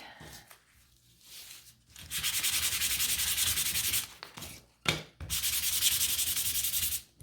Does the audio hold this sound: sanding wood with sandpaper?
yes